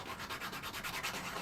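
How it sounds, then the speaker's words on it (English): A coarse sanding stick rubs back and forth over a piece of scrap plastic model-kit sprue, making a close, rapid, rhythmic scratchy rasp with no talking. "I'm just going to take my coarse sanding stick here and rough it up"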